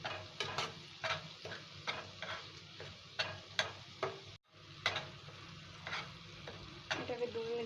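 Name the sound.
ginger paste frying and being stirred in pan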